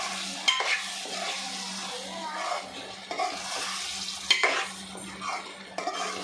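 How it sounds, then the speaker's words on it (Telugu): A spoon stirs raw prawn and tomato curry in a pan with ground coriander, coconut powder and garlic, making soft wet scraping strokes over a steady low sizzle, close by and fairly quiet. "ఇవి మంచిగా కలుపుకొని"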